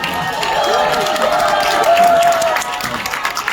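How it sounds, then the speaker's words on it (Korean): Cinema audience at a film stage greeting applauding and cheering, a steady crowd roar with a tonal whistle or shout rising above it, loud and continuous throughout. "박수 한번"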